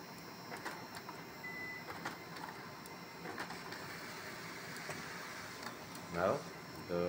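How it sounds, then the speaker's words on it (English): An HP LaserJet printer whirs and clicks steadily as it pulls paper through, with faint mechanical rattles and a brief louder clack near the end. "Now the printer is taking the paper properly."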